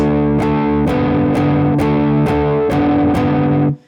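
A distorted electric guitar plays a song's riff, repeating sustained chords broken by regular staccato stabs, loud and close, stopping abruptly at the end.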